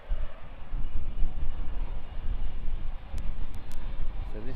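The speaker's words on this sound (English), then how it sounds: "So this is the TUI Dreamliner 787-8 off to Cancun, Mexico." A TUI Boeing 787-8 Dreamliner departing Birmingham Airport, a deep rumbling jet roar that swells and fades unevenly, heard from a distance outdoors, with a few brief high clicks near the end.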